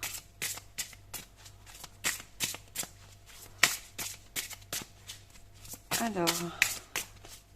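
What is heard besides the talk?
shuffling oracle cards for a reading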